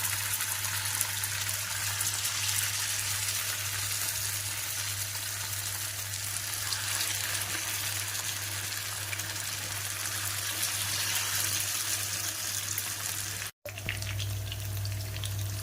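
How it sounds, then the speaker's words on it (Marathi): Small fish sizzle steadily in hot oil, a dense, even frying hiss that runs close and loud, with a constant low hum beneath and a brief dropout near the end. "आता तेल तापले, मी त्याच्यामध्ये आता एक एक टाकून छान फ्राय करून घेते।"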